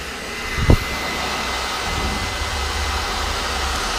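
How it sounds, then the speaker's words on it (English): A steady, breathy whoosh of a hair dryer blows continuously, with a brief knock near the start. "I sometimes use a wife's hair dryer."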